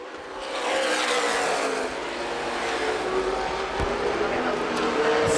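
CRA Late Model Sportsman stock cars racing at Winchester Speedway in 2011, a steady loud engine roar that swells as cars pass, with a race commentator talking over it.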